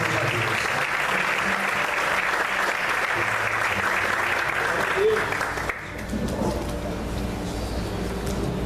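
A church congregation breaks into loud, sustained applause that runs strong for several seconds and then drops to a thinner, softer patter, with voices mixed into the crowd.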